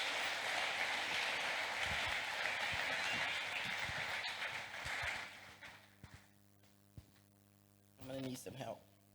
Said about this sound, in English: Oh, don't stop, don't stop, don't stop, don't stop. Keep on clapping. Keep on clapping.